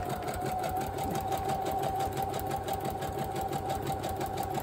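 A sewing machine stitching a craft bag runs in a fast, even rhythmic whir with steady mechanical clatter, close and continuous for a few seconds with no voices.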